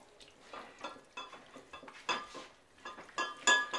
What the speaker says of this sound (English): We're just going to push this through the blender. Well, actually through the sieve.